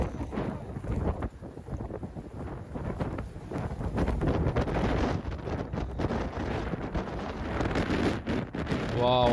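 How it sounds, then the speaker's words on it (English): Strong wind from a lake effect snow storm in Buffalo roars and buffets steadily against the microphone, loud and gusting without pause. "I get goosebumps just listening to the wind."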